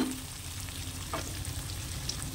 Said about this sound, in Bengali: এই যে হচ্ছে মাছের তেলটাকে আমি পেঁয়াজ রসুন কালো জিরে ফোড়ন দিয়ে ভেজে নিচ্ছি